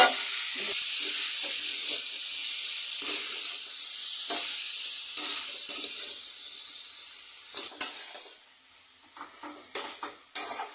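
Bottle gourd leaves and cabbage leaves sizzling in a pan over spices, a bright steady hiss with scattered clatters and scrapes of stirring, close up and without speech.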